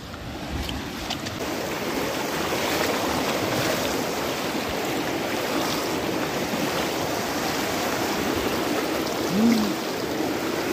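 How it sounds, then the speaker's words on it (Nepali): A village stream rushes and splashes around someone wading across it, a dense, continuous wash of water close by, steady throughout without speech. "खोला तर्नु पर्यो"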